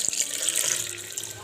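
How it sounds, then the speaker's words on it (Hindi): A glass of water poured into a blender holding cut pieces of Japanese fruit for juice, a steady splashing pour that trickles on briefly and stays fairly close and clear. "अब जो 1 ग्लास पानी था उसको भी ऐड कर देंगे।"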